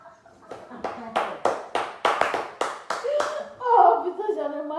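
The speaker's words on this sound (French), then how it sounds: "Applaudissez." About a dozen sharp, separate hand claps ring out in an uneven rhythm during a heated clash between a fan and a performer, followed by a raised voice and chuckling.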